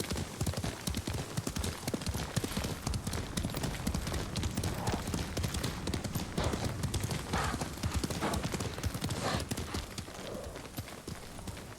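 Steady clip-clop of horse hooves trotting at a brisk, even pace in the video game Ghost of Tsushima, close and continuous, with occasional snorts over a dense outdoor ambience.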